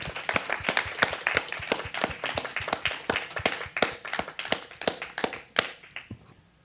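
At the end of a MoMA artist talk with Haegue Yang, an audience claps in a quick run of crisp, distinct claps that keeps up steadily, then thins out and tapers away near the end.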